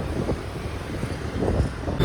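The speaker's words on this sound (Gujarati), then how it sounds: "ઠંડો મસ્ત પવન" Cool wind gusting outdoors, buffeting the microphone with a low, continuous rumble that swells and eases.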